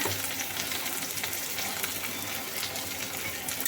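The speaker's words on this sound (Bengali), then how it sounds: "এবারে পেঁয়াজগুলো ভেজে নিচ্ছি" Onions fry in a pan over a low gas flame, a steady close sizzle that runs unbroken with no talk.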